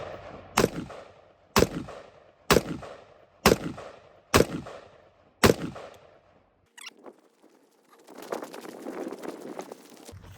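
A PSA rifle fires six sharp, loud shots at an even pace, about one a second, during a torture test, followed by a short clatter and then a stretch of rustling, shuffling handling noise.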